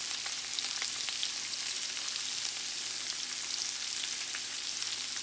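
Shrimp burgers fry in a pan with a steady, close, crackling sizzle that holds evenly throughout, with no talking.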